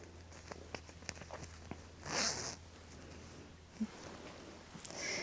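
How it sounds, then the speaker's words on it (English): A quick metallic zip of a metal zipper on the back of a late-1960s dress being pulled, amid soft clicks and rustling handling sounds, heard close with no talking. "A fun little 60s dress, late 60s, with the back metal zipper back here."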